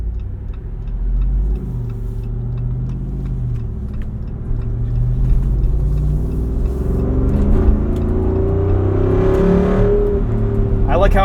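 A 2024 Jeep Wrangler Rubicon 392 Final Edition drives on the road, its engine a steady low rumble that swells slightly as it accelerates, with road and cabin noise throughout.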